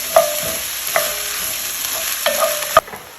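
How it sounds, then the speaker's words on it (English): Onions cook over medium heat in a STAUB Chistera braiser, a soft steady sizzle with a few sharp scrapes of a utensil stirring against the pan, close and alone. "using a medium heat here, we're going to cook our onions until it becomes more translucent"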